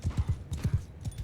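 Horse hooves clip-clop in a steady, quick rhythm within the Mount & Blade II Bannerlord game, close and continuous with a faint background hum.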